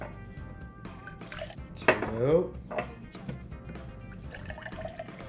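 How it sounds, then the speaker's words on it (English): Water poured into glasses, filling each about halfway for a floating egg experiment, with a clear burst of pouring and splashing in the middle and lighter liquid sounds and clinks around it, alongside brief speech. "I'm gonna pour each glass about halfway full"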